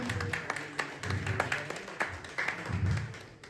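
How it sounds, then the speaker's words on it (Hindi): Audience applause at a New Year associate meet in India, where a CRM and website launch is being held: a crowd claps in a dense, uneven patter of close hand claps that lasts the whole few seconds. "जोरदार तालियों के साथ स्वागत"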